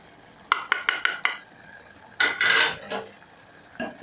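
Utensil stirring omena (small dried fish) in sour milk with salt and Royco powder in a pot, a quick series of scraping clinks followed by a longer louder swirl of stirring and a final scrape, close and with no talk.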